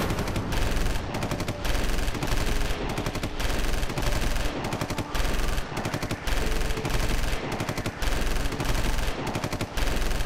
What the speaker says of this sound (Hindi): बहुत बरसाली गोलियां